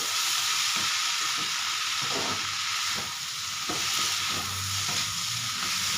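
Deggi chili powder being stirred into a frying mix in a pan, a loud, continuous close sizzle with the rhythmic scrape and shuffle of stirring, and no voices.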